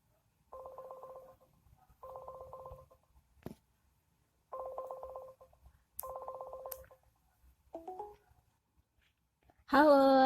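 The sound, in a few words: phone call dialing and ringing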